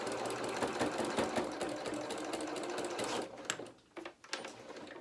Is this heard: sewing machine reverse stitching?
yes